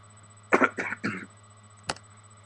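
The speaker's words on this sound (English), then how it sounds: "See, just coughed." A short run of close, rough coughs followed by a single sharp cough after a pause, over a steady low electrical hum.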